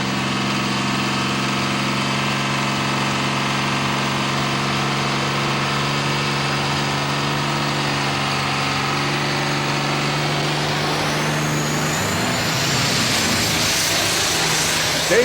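A pulling tractor at a 1999 tractor pull in Galax, Virginia, building boost before the clutch drops: a loud, steady, close engine drone that swells into a harsher, rising roar near the end.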